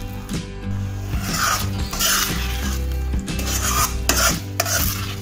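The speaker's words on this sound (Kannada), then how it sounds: "ಕಂಟಿನ್ಯೂಸ್ ಆಗಿ ಸ್ಟಿರ್ ಮಾಡ್ತಾನೆ ಇರಬೇಕು" A spoon scrapes and stirs a thickening Hayagriva mixture of chana dal sweet in a pan over low flame, with repeated close rasping strokes in an uneven rhythm and a faint sizzle underneath.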